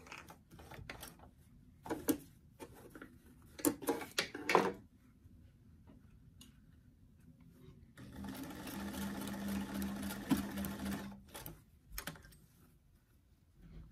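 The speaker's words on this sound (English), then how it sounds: "And start to sew." Sewing machine stitching a sleeve onto a doll dress, opening with scattered clicks and handling taps, then a steady whirring run of several seconds, fairly quiet and close, ending in more brief clicks.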